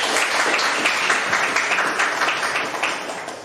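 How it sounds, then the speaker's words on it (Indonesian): Students in a technical drawing class clap together in a steady, dense burst of applause that fills the room without pause, close and fairly loud. "Oke, tepuk tangan dulu"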